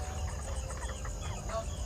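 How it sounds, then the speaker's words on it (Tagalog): Chickens penned under netting cluck softly at a distance at night over a low rumbling background, no clear voices. "dito naman ang ating ilang manok na nakakulong sa lambat"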